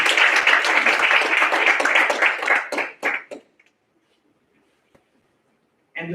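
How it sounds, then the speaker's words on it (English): A crowd at a logo-design awards ceremony claps loudly for about three seconds. The applause thins into a few separate late claps and then drops to near silence, and a short burst of sound returns right at the end. "A round of applause."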